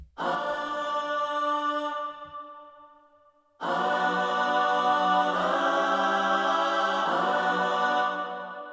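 Sampled choir chords from the Play plugin drenched in Valhalla reverb: a sustained sung chord that fades away, then after a short gap two more lush held chords swell in and ring out, loud and alone.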